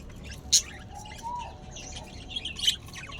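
Budgerigars nesting in clay breeding pots let out a few brief, high chirps and squawks. The calls are spaced apart over a soft, low room rumble, and no one speaks.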